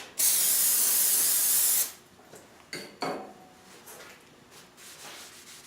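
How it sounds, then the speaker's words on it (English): A can of Walmart brake cleaner sprays in one loud, steady aerosol hiss lasting under two seconds while stripping a Mosin Nagant rifle, followed by quieter handling clicks and rubbing. "what I'm using is just Walmart brake clean, and I mean, it takes it right off"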